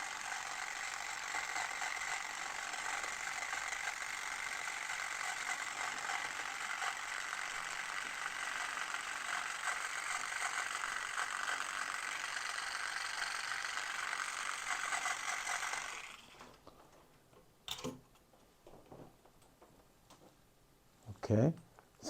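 A Klixer dreadlock machine works on straight hair with a steady, dense mechanical buzz for about sixteen seconds. It then cuts out, leaving a few sharp clicks and handling knocks close by.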